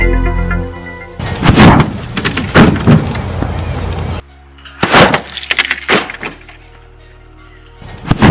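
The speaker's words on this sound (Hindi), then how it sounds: "तो यहाँ पर गाइस धमाका होने वाला है।" A huge homemade sutli firecracker for Diwali bursts in two loud, violent blasts a few seconds apart, each a sharp crack with debris-like rattling and scattering, framed by near silence and close voices reacting.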